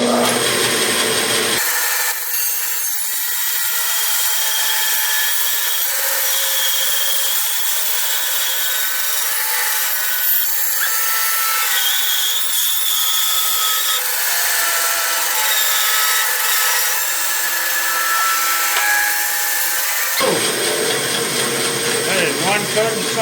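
Bandsaw cutting through white oak for a bowl blank, a loud continuous high-pitched cutting whine held for nearly twenty seconds, the pitch shifting slightly as the cut progresses, with the machine's broadband running noise before and after.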